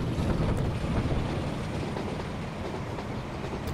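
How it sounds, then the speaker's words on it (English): A Thameslink train passing through a station in a train video game, a steady broad rumble and rush that holds loud and even throughout, with no talk. "We have a train passing through this station. And I'll give you a clue, that's a Thameslink train"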